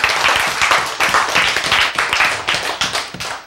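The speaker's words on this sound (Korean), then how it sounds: "박수!" An audience in a church Bible study session bursts into loud, close clapping, a dense patter of many hands beating in uneven bursts throughout.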